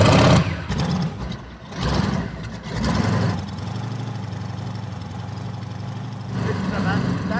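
A radial-engined Goggomobil, a classic car whose engine runs on compressed gas fed from two bottles mounted at the front, chugs with a loud, rough, rhythmic throb, revving in bursts before settling into a steady running note, partly under talk.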